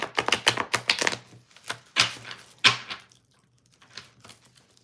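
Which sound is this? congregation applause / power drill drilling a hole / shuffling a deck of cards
shuffling a deck of cards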